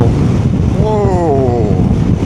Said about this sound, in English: that wind! Fighting to keep it on my side of the road.